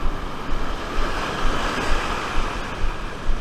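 Ocean surf breaking into white water along a shoreline where people are fishing for sharks and kob, a steady broadband wash with rolling swells under gusts of wind noise on the microphone, no voices.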